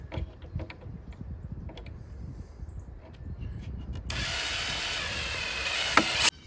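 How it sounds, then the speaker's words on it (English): A screw is driven into an oak board with a power driver: quiet handling knocks first, then a loud steady whirring burst lasting about two seconds that ends abruptly with a sharp click, up close. "we'll screw it right in there."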